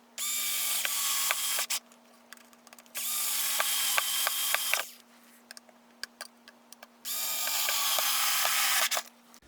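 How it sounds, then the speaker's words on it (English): A power drill drives wood screws into a hinge on a Donkey Kong cocktail arcade cabinet. There are three sustained whirring bursts, close and loud, with ticking clicks from the clutch and quiet pauses between them. "We'll put our wood screws in."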